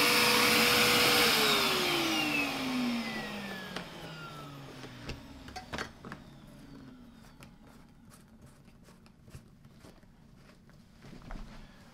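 A Henry HVR200 canister vacuum cleaner motor whirs loudly at first, its pitch sliding down as it winds off, leaving a fainter hum with scattered clicks and taps.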